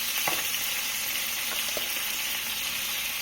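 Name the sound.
sautéing food in oil in a pan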